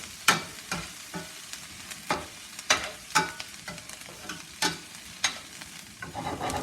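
Food sizzles and fries in a pan, punctuated by repeated sharp scraping stirs at an uneven rhythm, close and fairly quiet.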